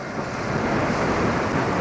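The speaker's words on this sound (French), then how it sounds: "le vent est trop fort pour continuer à naviguer" Strong wind sweeps over the open sea near the Bering Strait aboard a sailing boat, a dense continuous roar of gusts and rushing water that stays loud and steady with no voices.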